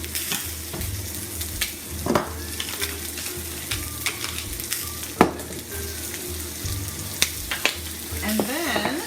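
Salt-and-pepper seasoned pork chops fry loudly in a pan, a dense continuous sizzle broken by clanks and scrapes as the chops are flipped and the pan is handled.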